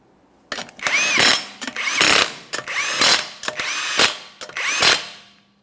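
An impact wrench spins 21mm lug nuts onto a wheel of a 2014-2019 Toyota Corolla, five loud close bursts of whirring and hammering, each about half a second, separated by short pauses.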